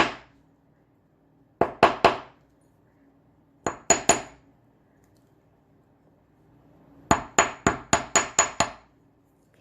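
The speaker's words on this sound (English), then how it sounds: "it's just gentle taps at this point, because we're not hammering it for anything other than straightening right now" Gentle hammer taps straightening jewelry wire on a hard block, ringing metallic clinks in short quick bursts of two or three, then a run of about seven, close and clear with silence between.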